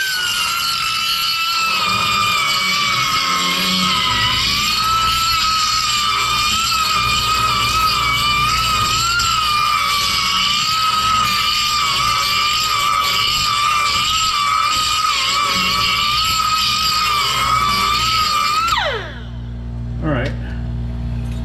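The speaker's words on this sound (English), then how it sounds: "So now I'm going to go in there with a little die grinder." A small die grinder smooths high spots inside an expanded car tailpipe, a steady high-pitched whine running continuously for about nineteen seconds before cutting off into a brief quieter tail.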